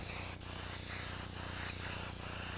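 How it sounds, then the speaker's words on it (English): An airbrush sprays flesh-tone paint in a steady close hiss across an anatomy portrait, with faint pulses where the stream is briefly eased and resumed. "We're going to spray it right over top."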